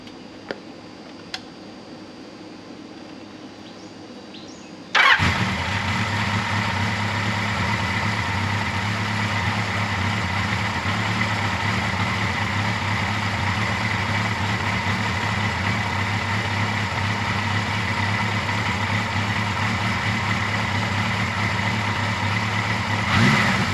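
A Kawasaki Z900 or KZ1000 motorcycle engine cranks and catches at once, then settles into a steady, rumbling idle that continues evenly, with a faint ticking before the start.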